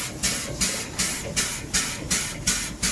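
Compressed air from a workshop compressor airline is blown through a paint spray gun to clean it. It makes a close hiss in regular short bursts, about three pulses per second, with no speech.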